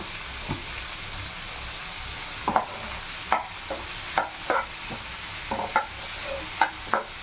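Spoon stirring egg curry with turmeric in a hot pan, with a light sizzle underneath and about a dozen soft scraping strokes spaced irregularly, fairly close and moderately quiet.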